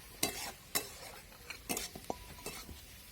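Onions sautéing in a pan for a fresh green moong chutney, with a few sharp spatula scrapes and clinks over a soft, steady sizzle, no talking.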